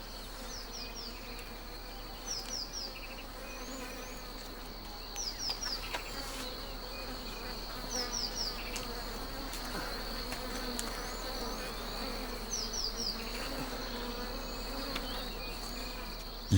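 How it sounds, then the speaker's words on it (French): Swarm of wild bees buzzing steadily at a tree nest being smoked out with torches during a honey hunt in Kenya, a dense continuous drone with faint chirping insects in the background. "pour enfumer les abeilles et diminuer leur agressivité"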